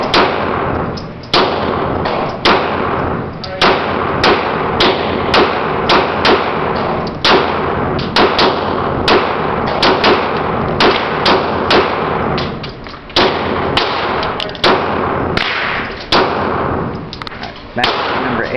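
A Glock 19 Gen 6 pistol fires shot after shot, sharp cracks spaced irregularly about every half-second to second over a steady loud background.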